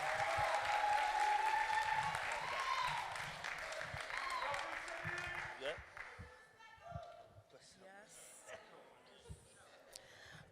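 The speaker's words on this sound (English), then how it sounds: "Can you please clap it up for Shanique Saunders?" Audience applause and cheering at a youth poetry slam event, with loud sustained clapping that gradually thins into scattered claps, and a speaker's voice heard over the crowd.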